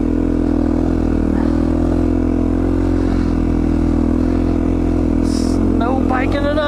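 Dirt bike engine running steadily while riding through snow in Idaho, a loud, continuous drone close by with rising revs near the end.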